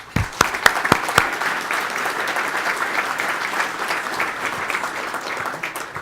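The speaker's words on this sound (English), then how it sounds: "Please join me in giving a round of applause to our sponsors." Audience applause at a transportation agency's anniversary event, opening with a few separate claps that quickly swell into sustained, even clapping from a sizeable crowd for several seconds.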